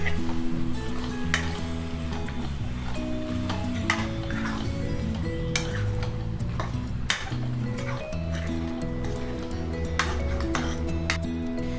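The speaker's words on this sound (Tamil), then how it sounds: "சிக்கன் சேர்த்துட்டோம், நல்லா கலந்து விட்டுடலாம் மசாலாவில்." Chicken pieces sizzle and are stirred into masala in a pan for Karaikudi chicken curry, with steady frying hiss and repeated clinks of a ladle against the metal pot throughout, no talking.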